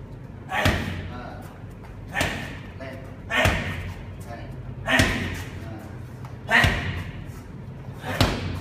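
Six heavy thumping strikes from a Shorin Kempo fighter land on a pad or body at roughly one-and-a-half-second intervals, close and loud, with foot and body connecting together, over faint background hum.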